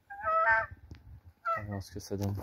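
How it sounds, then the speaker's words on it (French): Hawaiian geese (nene) honk close by in a few loud, nasal calls, separated by short pauses, with some lower grunting sounds between them. "ici on a les bernaches d'Hawaï"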